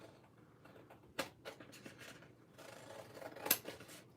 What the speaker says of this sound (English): are going to cut all these little pieces off the side so we have straight edges